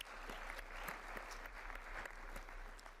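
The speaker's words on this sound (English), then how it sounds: "a round of applause for you" Faint but continuous applause from a conference audience at a national addiction-response gathering, an even, unbroken wash of many hands clapping throughout.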